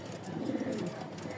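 Pigeons cooing softly in a low, continuous murmur over a short moment, fairly quiet, with a little indistinct background noise.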